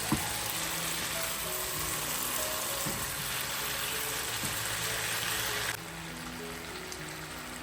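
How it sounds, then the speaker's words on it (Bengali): Apple pickle with tamarind sautés over high heat in a pan, giving a dense, steady sizzle that is loud and close and continues with no talk. "তেঁতুল দেওয়ার পরে কিন্তু আমি খুব ভালোভাবে কষিয়ে নিচ্ছি, দেখতেই পাচ্ছেন।"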